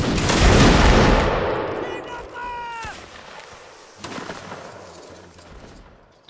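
Musket volley in the Napoleonic Wars video game, a Waterloo battle: a loud crackling burst of many shots at once that decays into scattered pops and distant battle noise, with voices and game sounds around it.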